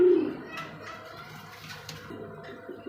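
Pigeons at a Bengali pigeon sale, cooing low and steady through the clip, a little stronger at the start, with faint background noise.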